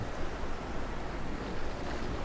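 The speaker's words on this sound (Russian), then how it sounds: "Внезапно поднялся сильный ветер. Море потемнело, корабль накренился, и волны захлестнули палубу." Rough sea noise, with waves surging and strong wind roaring in a continuous wash.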